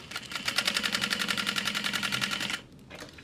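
A sewing machine top stitches a waist pack at a 4.5 stitch length, a steady rapid whirring thrum of even needle strokes for about two and a half seconds before stopping, close and alone.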